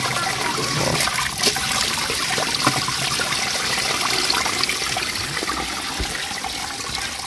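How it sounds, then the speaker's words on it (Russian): Rainwater from a house roof runs out through a newly fitted drain pipe in a steady, close, rushing pour that barely changes over the whole stretch, with no voices. "Так, здесь будет слив воды с крыши."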